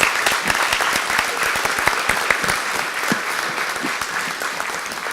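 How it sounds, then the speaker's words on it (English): Guests at Halifax Port Days 2016 on the Port of Halifax applaud a shipping line's decades of service. Dense, even clapping from a sizable crowd carries on steadily for five seconds, with no voices over it. "I think that deserves a round of applause"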